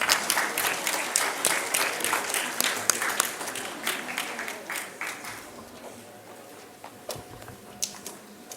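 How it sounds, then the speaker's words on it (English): An audience at an academic awards ceremony applauds with dense clapping that slowly thins into a few scattered claps. It starts fairly close and fades toward the end, with no one speaking. "Can I have a round of applause,"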